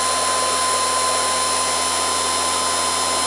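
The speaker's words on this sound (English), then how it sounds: "But that's a pretty powerful motor, and that's running at 24 volts." A homemade permanent magnet DC pulse motor with ceramic magnets on a six-position rotor runs at 24 volts, giving a steady, fairly loud whine with a constant hum and no voices.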